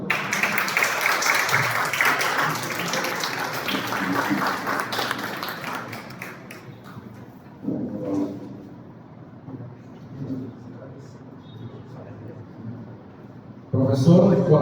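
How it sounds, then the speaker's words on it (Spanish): Applause from a seated audience at an indigenous-education sector award ceremony in Mexico, honouring a teacher: broad, dense clapping for several seconds that thins out, with a fresh burst near the end. "Un aplauso para él."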